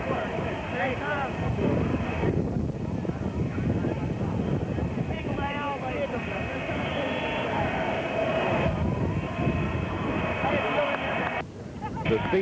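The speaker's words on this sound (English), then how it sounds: "Here comes the big jet in." A big jet airliner arrives at Love Field airport in 1963, a steady loud roar of engines and rushing wind sustained throughout, with a crowd and commentator voices partly audible beneath.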